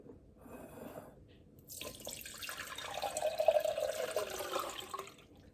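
Homemade water kefir being poured through a strainer, a soft, steady trickle and splash of liquid that builds and then thins, heard up close with no talking.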